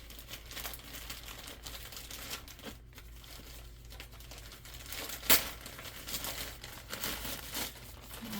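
A knife slits and tears open plastic packaging on Dreadpool merchandise while unboxing, giving steady close crinkling and rustling with a sharper snap near the middle and scattered crackles afterward. No one speaks.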